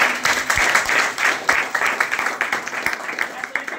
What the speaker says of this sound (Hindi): गुरुदेव के लिए जोरदार ताली हो जाए